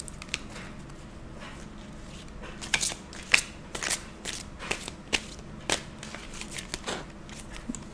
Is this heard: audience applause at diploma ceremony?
no